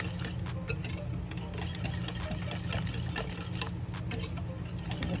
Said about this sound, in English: so we just whisk it